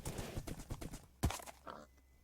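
Minecraft horse trotting, a quick run of soft rhythmic hoof clops followed by a sharp thud and a brief fading sound, all faint and fairly close.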